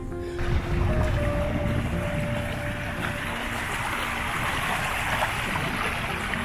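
A river on Dartmoor during a crossing on a night of high wind and heavy rain, its water rushing and splashing close by in a steady wash that continues throughout, with no talking.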